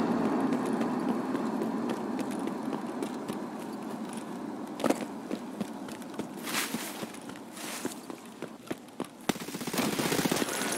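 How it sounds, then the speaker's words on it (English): Gunshots fired at the player in Escape From Tarkov, scattered sharp cracks over a steady ambient rumble, with a cluster of louder reports late on and a final close burst. "And we're actually receiving shots."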